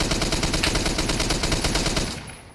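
Rapid automatic gunfire from a shooter video game, fired through a bench, rattles off in a dense, steady burst for about two seconds before cutting off abruptly.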